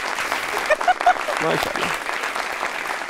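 Studio audience applause on a Pakistani TV talk show, a steady moderate clapping wash running under a voice throughout.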